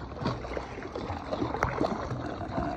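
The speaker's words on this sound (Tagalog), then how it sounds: "may alon dito. Kasi may dumaang barko ano." Water sloshing and lapping against a hull, with steady choppy splashing from a passing ship's wake waves close by, off Coron, Palawan, and no voices.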